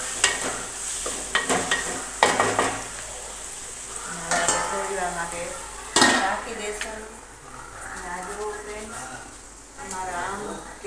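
Salted onions fry in a pan for masala Maggi, sizzling softly while a utensil stirs and clanks against the metal in repeated close knocks, with a person talking over it.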